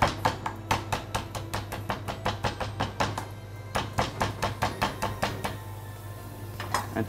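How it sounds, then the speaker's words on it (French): Lemongrass stalks crushed on a board, a run of sharp rhythmic thuds in quick succession, a brief pause, then another steady series of blows fading out near the end. "La citronnelle qu'il faut écraser légèrement."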